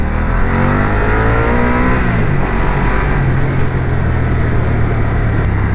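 A 2023 BMW F900R motorcycle engine drones steadily, its pitch climbing as it accelerates hard to overtake, with heavy wind rush over the whole stretch.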